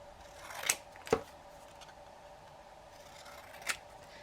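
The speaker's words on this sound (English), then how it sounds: "You can either cut them out like this" Scissors snip through cardstock while cutting out paper shapes, with three sharp, quiet cuts spread apart against a faint background hum.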